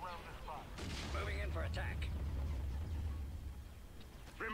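Space battle weapons fire in Star Wars: Empire at War, a low sustained rumbling barrage of booms under radio-style voice chatter from units.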